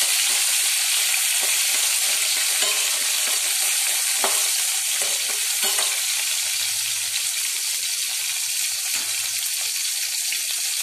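Tomatoes frying in hot oil in a pan for a traditional Tamil fish curry, meen kuzhambu, a loud, dense, continuous sizzle with crackling spits, close up and without talk.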